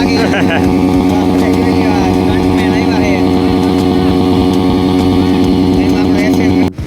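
Motorcycles and other traffic crowd a bridge at Mandvi, a loud, steady mix of engine drone and revving close by, with people talking over it throughout.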